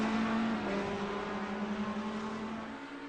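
Racing engines drone steadily as GT3 race cars accelerate around the Charlotte Roval, a continuous harmonic whine from mid-distance with no voices over it.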